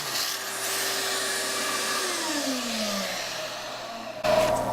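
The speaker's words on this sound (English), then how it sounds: "we'll do our plunge cut, and we'll go from there" A track saw with dust-collection hookup makes a plunge cut into a TrueTrac dust collection nozzle strip, giving a steady loud whirring hum with a falling pitch sweep midway and a brief sharper burst near the end.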